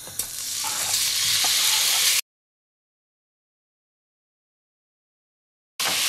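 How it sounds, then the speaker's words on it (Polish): Loud, steady sizzling of pork shoulder searing in hot olive oil over fairly high heat for a couple of seconds, then abrupt silence before the sizzle returns briefly. "Smażę na dość spory ogniu, tak aby mięso ścięło się szybko"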